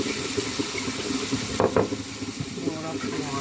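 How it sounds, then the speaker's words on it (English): Tap water runs into a small bowl holding a dissolved vinegar and sugar mixture, a continuous close splashing stream with a brief louder gush partway through. "And I'm gonna add some water."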